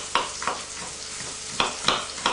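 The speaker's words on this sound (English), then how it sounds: "whilst the onions are frying" Onions frying in a pan, a soft steady sizzle running throughout with a few brief stirring clatters breaking through at intervals.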